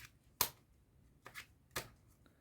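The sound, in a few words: cutting and shuffling playing cards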